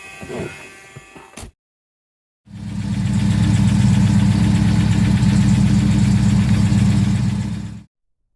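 A 1970 Plymouth Superbird V8 settles into a loud, steady idle with a deep rumbling throb that holds for several seconds, following a short burst of other noise and a moment of silence.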